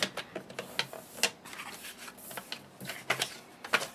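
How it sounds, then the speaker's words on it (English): Papers being cut into 1-inch strips for a handmade card make a close series of crisp, uneven clicks and short slicing swishes, quiet and irregular in rhythm. "I'm going to cut all of these papers down at 1-inch"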